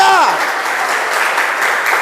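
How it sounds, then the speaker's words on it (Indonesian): Church congregation applauding and cheering loudly during a lively worship service, a dense, steady wash of clapping and shouts over a preacher's voice fading at the start. "Berikan sorak-sorai buat Tuhan yang meriah, yang dahsyat, luar biasa"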